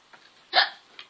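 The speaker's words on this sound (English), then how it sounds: "always got the hiccups" A baby hiccuping indoors in a twin nursery, one clear close hiccup with a fainter one just before and after, no talking.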